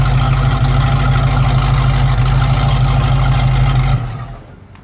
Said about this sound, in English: Really nice dual exhaust sound, and then especially coming off of that those dual tips with the little cutout.